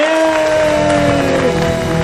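Applause from an audience at a talk show fills the room, a steady wash of clapping over a sustained musical tone.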